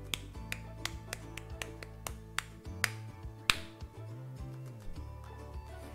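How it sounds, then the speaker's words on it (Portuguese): Light clapping made with two or three fingers against the palm gives sharp, thin drop-like taps, repeated in a steady rhythm over background music with a quiet, close sound. "A palma pingo, que pode ser feita com dois ou três dedos, e ela tem esse nome porque o som lembra um pingo d'água caindo,"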